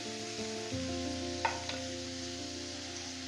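Ginger garlic paste dropped into a hot pan while making filling for homemade momos, giving a close sizzle and frying crackle with a couple of stirring clicks, over faint background music.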